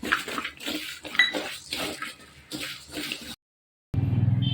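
Rice tipped into a metal pan while making tomato sambar, with grains rattling and scraping against the pan in irregular bursts. A short silence follows, then a steady sizzling hiss.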